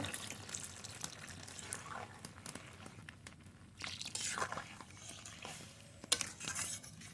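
Water poured into a pan of ghugni, spiced peas and mutton fat, with close stirring and scraping, clinks of a utensil and running water underneath, ending in a louder clatter.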